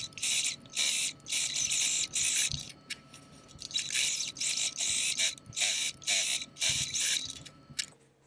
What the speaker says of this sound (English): So I'm going to go ahead and top stitch now.